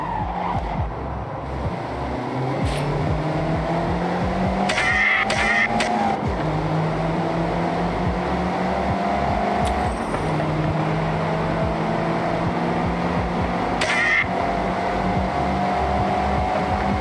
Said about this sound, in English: Attack these corners. Don't worry about traction. The MX-5 likes to be sideways.